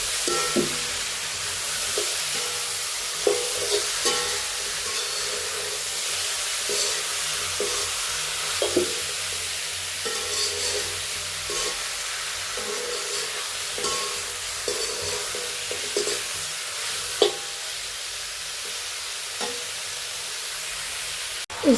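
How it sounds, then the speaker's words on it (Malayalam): Beef coated in spice paste is sautéed in a pan for a beef curry, giving a steady close sizzle with intermittent scraping stirs throughout. "അരപ്പ് പുരട്ടി വെച്ചിട്ടുള്ള ഇറച്ചി ഇതിനകത്തോട്ട് ഇട്ടൊന്ന് വഴറ്റിയെടുക്കാം"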